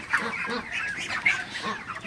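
Broiler chickens on a farm give a quick series of short, nasal calls, moderately close and fairly quiet, overlapping in a loose, busy chatter.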